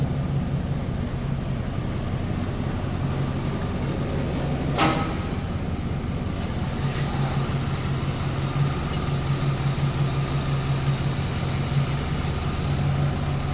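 The 5.7 liter LT1 V8 engine of a 1939 Chevrolet two-door sedan street rod idles steadily with a low, even rumble, and a brief sharp click stands out partway through.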